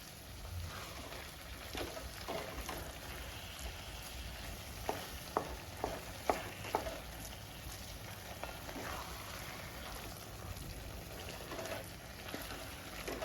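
Chicken keema stir-fries in a pan for samosa filling, a soft continuous sizzle broken by several sharp clicks and scrapes of a spoon against the pan, close but quiet.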